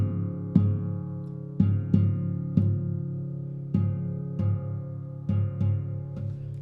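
Classical guitar playing Ginastera's Sonata op. 47 uses the tambora technique to imitate a bombo drum: struck chords ring out with sharp percussive attacks in an uneven rhythm, about eight hits that each decay before the next.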